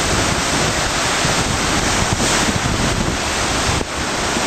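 Ocean waves surging against rocks at a blowhole, a loud, continuous roar of surf mixed with heavy wind buffeting the microphone, with brief swells of spray and no voices.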